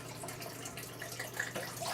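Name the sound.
liquid poured into underwater fish trap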